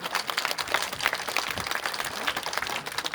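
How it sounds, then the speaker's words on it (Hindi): A crowd at a public function with a minister present breaks into dense, sustained applause, many hands clapping loudly and continuously for several seconds without pause. "एक बार पुनः ताली बजा करके जोरदार तालियों से"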